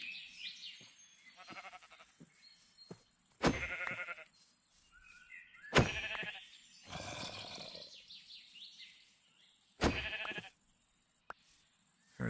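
Sheep bleating in Minecraft, several short bleats at intervals over a steady faint background, with some game sounds between them.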